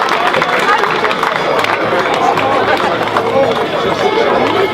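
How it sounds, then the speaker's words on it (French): Crowd at a Camargue horse gathering applauds the breeder and riders from Saint-Laurent with their horses, a dense continuous wash of clapping and cheering that holds steady at close range throughout. "On applaudit Saint-Laurent-des-Gouzes et leurs chevaux."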